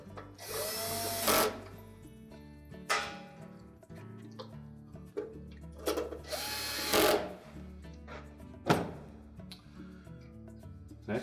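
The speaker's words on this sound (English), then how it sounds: "We install the two screws across the top." A power driver runs in several short bursts while two screws are driven across the top of a Whirlpool washer's control console during a timer replacement, the motor whine close and loud with pauses between.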